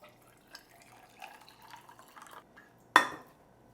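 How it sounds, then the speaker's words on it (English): Pour-over coffee trickling over a glass of ice, a faint, uneven liquid patter followed by one sharp, bright clink near the end. "You have a glass of ice, and then you have your pour over coffee."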